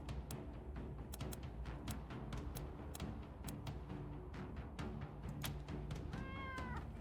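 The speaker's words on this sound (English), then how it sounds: "Cat turns away, haughty as ever." Near the end, a single brief cat meow from the video game Wasteland 3 rises out of steady game ambience with rhythmic clicks and music running throughout.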